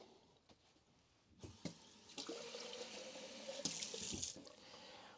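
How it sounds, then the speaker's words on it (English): Tap water runs into a darkroom mixing container while a photographic toner is made up, a steady splashing stream that starts quietly and grows fuller, with a few brief knocks of handling. "Now I'm going to add a little bit of water."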